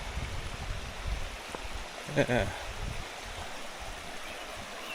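A waterfall on a nature walk makes a steady, broadband rushing wash that continues throughout, with a brief spoken word from a nearby person partway through.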